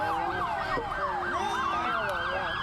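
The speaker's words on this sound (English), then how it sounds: "It is an ambulance." An ambulance siren wails past a beep baseball game, its rising and falling tones sweeping steadily at moderate distance over constant background noise, with no talking.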